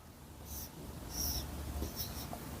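Rough working being written out by hand, pen scratching in several short strokes over a soft steady background, close and clear with no talking.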